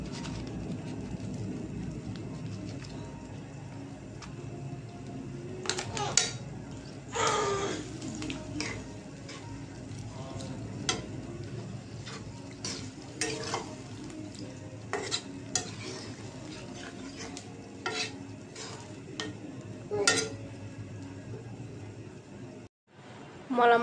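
Mola fish frying with tomato in a pan, a low steady sizzle broken by repeated sharp spatula scrapes and clinks against the pan, close and fairly quiet, with no talking.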